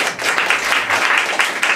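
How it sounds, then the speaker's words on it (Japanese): Audience clapping at a Boost Miyagi rap battle event, a short loud burst of many hands, rhythmic and close, with no talking over it. "拍手お願いします"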